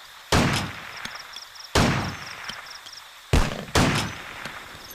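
Four loud gunshots ring out in the Vietnam War video game Vietcong, each a sharp crack trailing into a short decay, spaced unevenly with a gap before the last pair.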